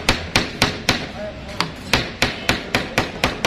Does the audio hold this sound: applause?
no